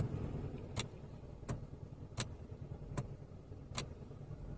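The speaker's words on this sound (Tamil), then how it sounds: "அந்த ரிதம், இன்ஜின் ரிதமும் மாறுது" A car engine idles faintly while sharp clicks repeat at a regular beat roughly every three quarters of a second, quiet and without speech.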